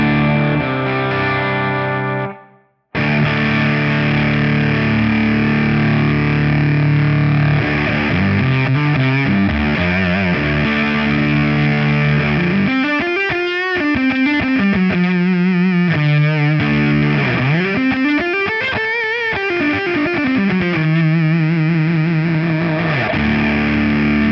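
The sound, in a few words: electric guitar through Vital Distortion pedal, fuzzy sustained tone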